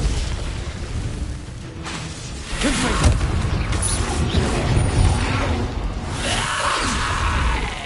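Explosive Confringo spell blasts in the video game Hogwarts Legacy, loud booms and crashing bursts one after another over a dense game background, with no talk.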